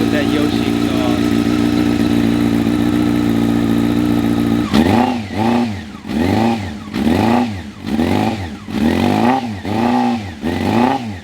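Honda CBR600 Smokin Joe's Edition with a Yoshimura exhaust, idling steadily for a few seconds, then revved in six or seven rhythmic throttle blips rising and falling, close and loud.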